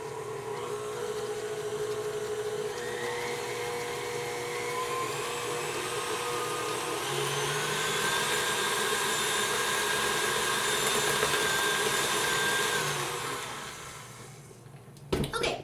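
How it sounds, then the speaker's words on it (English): An electric mixer blends cocoa into buttercream in a kitchen, giving a steady, loud motor whine with a shifting pitch. It runs close and continuous for most of the stretch, then winds down and ends with a couple of knocks. "we're going to go ahead and mix in our cocoa, and we want to start slow"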